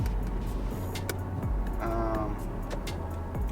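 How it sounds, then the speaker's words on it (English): Power windows on a Toyota Celsior whir closed with a steady motor hum for about half a second inside a moving car, over constant road and engine rumble. "I'll start checking windows as I'm driving, just making sure that they're all closing and opening"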